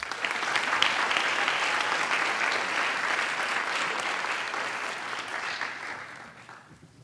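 Graduation convocation audience gives a warm round of applause for a school program director. Steady, dense clapping from a large hall crowd holds for several seconds, then tapers off near the end.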